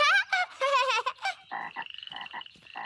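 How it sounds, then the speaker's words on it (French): A cartoon frog croaks in a quick series of nasal, buzzy calls, close and loud, the later croaks coming in rapid rhythmic bursts. "Et ça, c'est leur papa la grenouille."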